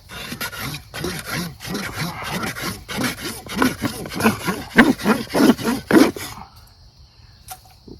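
A rolled fire roll of tinder worked back and forth against a board by hand to raise an ember, giving about ten rhythmic rasping rubs that grow louder toward the end, then stop.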